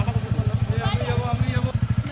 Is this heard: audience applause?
no